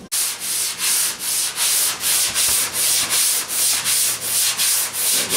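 Hand sanding of FeatherFill G2 primer on the hood of a 1977 Camaro Z28, moving up to 220 grit. The scratchy back-and-forth strokes come in a steady rhythm of about two per second, close and loud, with no talking.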